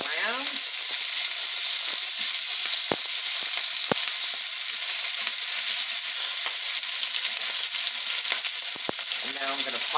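Potatoes and chopped onion sizzle steadily in a cast iron pan, a loud continuous frying hiss broken by a few sharp scrapes of a fish spatula stirring them around.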